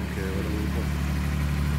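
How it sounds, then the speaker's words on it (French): A carbureted six-cylinder engine in a 1979 BMW 520/6 E12 runs at a steady idle, with a continuous low rumble that holds close and even for the whole stretch and no pauses or revving. "Ça fait un bruit de 6 cylindres"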